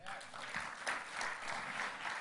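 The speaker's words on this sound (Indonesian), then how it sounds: "Tepuk tangan bagi Tuhan." Church congregation clapping for God during a sermon, a fairly faint, even patter of many hands heard from a distance, sustained for a couple of seconds.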